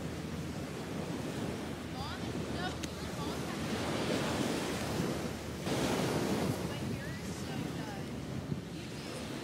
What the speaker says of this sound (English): I'm out at the beach now.